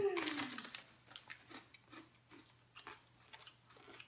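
Lattice-cut ghost pepper potato chips are chewed close to the mic, giving a run of sharp, irregular crunches after a brief vocal sound at the start.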